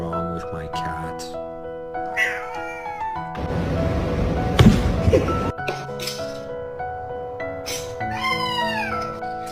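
A pet cat meows repeatedly in drawn-out, wavering cries, with a burst of rustling noise midway and a person talking over parts of it.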